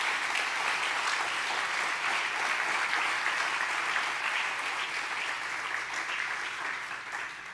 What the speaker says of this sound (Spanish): Dele un buen aplauso de alabanza a Jesús.